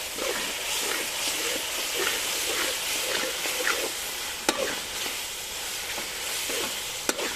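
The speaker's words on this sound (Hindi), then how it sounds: "इसे थोड़ा सा मसाले में मिक्स कर लेंगे।" Homemade pickle being stirred into sizzling masala in a pan for chana pulao, a steady frying hiss with soft scraping stir strokes and a couple of sharp clicks of a spoon against the pan.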